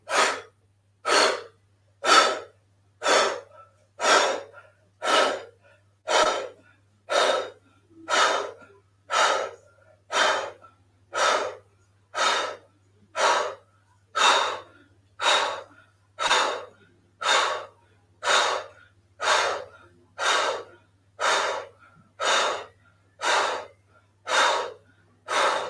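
Rapid, forceful pumping breaths from a yoga breathing exercise, about twenty-five sharp exhalations in a steady, even rhythm, close and clear with no talking over them.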